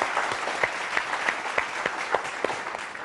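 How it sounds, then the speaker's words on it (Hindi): Applause from a modest audience welcoming an architect guest onto a talk show set, a few fairly sparse claps standing out from steady lighter clapping, at moderate distance. "तो विदाउट फर्दर अडू स्वागत करते हैं जोरदार तालियों के साथ"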